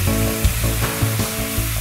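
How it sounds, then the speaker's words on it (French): Shallots sizzle in a hot pan, a steady, close frying hiss with soft pulsing crackles throughout, loud and continuous with no talking. "Donc on va mettre les échalotes dans la poêle. On les fait légèrement revenir."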